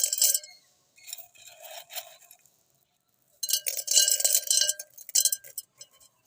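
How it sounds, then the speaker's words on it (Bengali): Crushed brick powder scattered over a plant pot during bougainvillea repotting, heard as bursts of gritty pattering and rustling in short separated spells with silent gaps between. "এই যে গুঁড়ো টনচি এই টবের উপর আমি ছড়িয়ে দেবো।"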